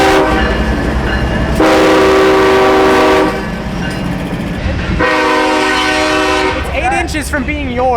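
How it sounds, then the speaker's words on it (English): Passing train sounding its loud horn in two long blasts, with heavy rumbling rail noise and wheel clatter close by throughout. "you're filming a train?"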